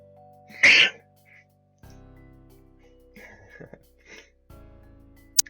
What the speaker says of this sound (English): So I did sneeze, so sorry for that.